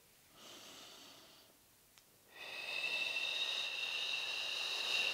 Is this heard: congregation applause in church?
no